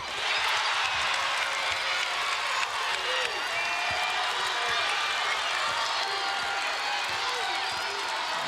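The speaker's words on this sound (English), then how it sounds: "You hear these Drake fans behind us getting loud, cheering on this team" Drake fans at an NCAA women's basketball first-round game cheer loudly and steadily, a dense wash of crowd noise, whoops and clapping that carries on throughout, with a voice talking over it.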